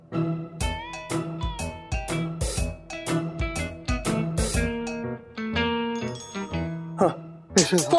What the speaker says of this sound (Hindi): फोन बज रहा आपका।